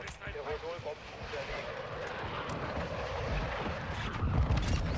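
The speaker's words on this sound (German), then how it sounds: "Unsere Drohne umkreist das Gebiet." A steady droning aircraft engine hum from a circling drone in the online shooter Modern Warfare 2 multiplayer, continuous beneath game noise and someone talking.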